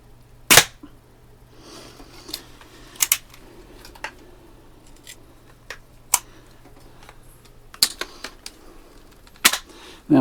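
A Daisy 853 air rifle fires at targets, producing sharp, isolated cracks spaced several seconds apart, with fainter clicks between shots in a quiet setting.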